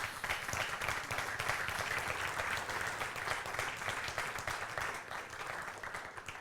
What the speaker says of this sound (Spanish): ¿Cuántos lo creen y pueden darle un fuerte aplauso al Señor?